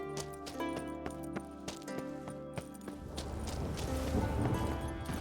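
Geralt's horse Roach in The Witcher 3 galloping, rapid rhythmic clip-clop hoofbeats close by over a background music bed, the steps growing more scuffed and dense toward the end.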